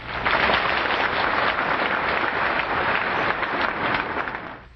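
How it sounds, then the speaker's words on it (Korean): Audience applause welcoming a teacher at a lecture gathering, a full, dense and steady clapping from a sizable crowd that swells quickly and holds before easing slightly at the end. "스승님을 환영하는 박수를 한 번 더 해주시기 바랍니다"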